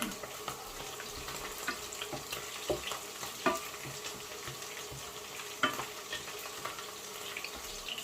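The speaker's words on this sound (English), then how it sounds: "So I'm frying the veggies now." Vegetables for fried rice sizzle and crackle in a hot pan, with scattered stirring scrapes and clinks over a steady frying hiss, close by and fairly quiet.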